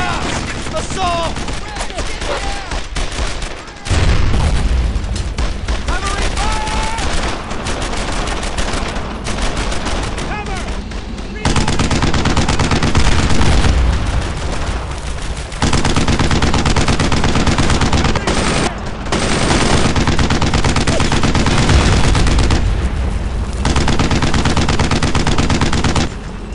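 Dense, loud video game gunfire from the World War II shooter Brothers in Arms: Earned in Blood, with rapid automatic bursts and scattered single shots rattling almost continuously, broken by one brief pause.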